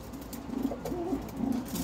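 Soft, low cooing of homing pigeons repeating in a gentle rhythm, close by, against a steady background hiss.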